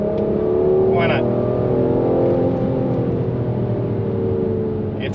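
Mercedes GLC 43 AMG engine pulling hard under full throttle, a steady, loud, continuous drone from inside the cabin with a smooth rising tone, lightly blended with a faint voice.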